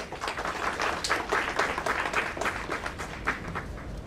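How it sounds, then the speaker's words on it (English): An audience at a formal tax policy event claps for chief guests taking the dais, a dense, even patter of many hands at moderate volume, sustained throughout. "Ladies and gentlemen, a big round of applause."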